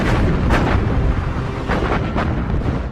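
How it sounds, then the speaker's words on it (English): Heavy, dull booms of naval gunfire from a cruiser and destroyer escorts shelling an island roll together into a loud rumble, with a few sharper bursts standing out. "Baltimore and the destroyer escorts open up and pepper the island with explosive naval gunfire."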